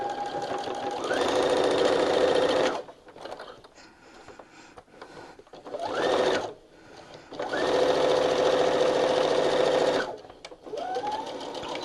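Sewing machine stitching in close, loud bursts of steady rapid whirring, several runs of a few seconds each separated by brief quiet pauses.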